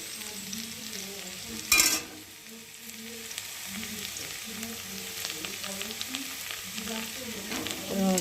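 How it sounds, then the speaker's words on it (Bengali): Vegetables for chowmein fry in a pan with a continuous sizzle and repeated stirring scrapes, plus one loud clatter of a utensil early on. "তো চলো সবজিটা ভালো করে ভেজে নিই"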